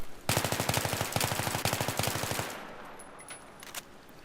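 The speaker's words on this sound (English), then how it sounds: "So tap firing looks a little bit like this." Rapid bursts of automatic gunfire from tap firing in the video game Battlefield 3, a loud rhythmic string of closely spaced shots in short clusters for about two seconds, then fading into quieter ambient game noise with a couple of faint later pops.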